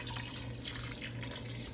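Chicken broth pours into a soup pot of vegetables in a steady, splashing stream, a short continuous watery rush with no talking.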